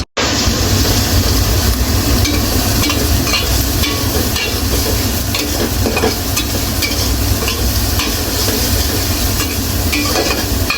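Bay leaf, cinnamon, black pepper and cardamom fry in fish oil with a loud, continuous close-up sizzle and crackle, steady throughout with occasional stirring, no voices.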